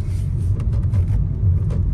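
A Hyundai Creta N Line car drives at night in eco mode, giving a steady, loud low engine and road rumble heard from inside the cabin, with no voices.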